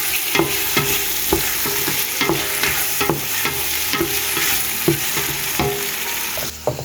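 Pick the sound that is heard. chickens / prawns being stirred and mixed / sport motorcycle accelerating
prawns being stirred and mixed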